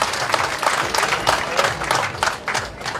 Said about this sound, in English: Come on, put your hands together again for such tremendous performance.